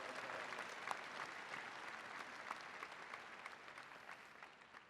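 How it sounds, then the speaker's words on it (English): A graduation crowd applauds its student speakers with a broad, continuous wash of clapping that stays even throughout, heard from a distance in a large hall. "Please give them another round of applause for some outstanding remarks."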